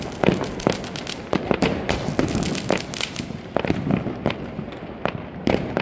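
Diwali fireworks and firecrackers go off all around, a rapid irregular string of loud cracks and bangs with crackling in between, close and distant bursts overlapping.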